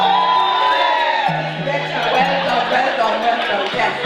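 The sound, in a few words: crowd cheering on a ship approaching Southampton dock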